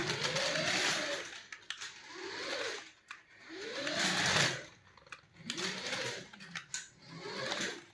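Small Smyths Speed Racer budget RC car with an electric motor, its whine rising and falling in repeated bursts of acceleration over several seconds, fairly close, no talking.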